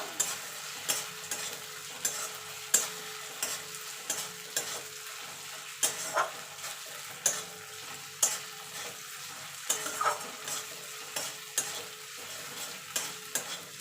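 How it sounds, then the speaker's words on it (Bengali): Ginger and garlic paste sautés in a pan for ghugni, with regular spatula strokes scraping the pan roughly every second over a low, steady sizzle. "যতক্ষণ আদা রসুন থেকে কাঁচা গন্ধটা না যাচ্ছে ততক্ষণ এটাকে কষিয়ে নেব।"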